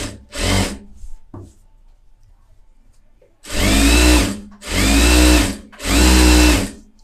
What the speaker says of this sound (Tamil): லைனிங் மேலே நான் தையல் போடுறேன்